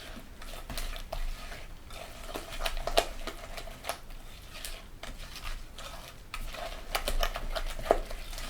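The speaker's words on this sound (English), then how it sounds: "and a bit more flour, and go for mixing again. Squish that egg in" Egg being worked into flour in a mixing bowl, a soft, steady scraping and squishing stir that carries on throughout at close range, with scattered small clicks and taps and no talking.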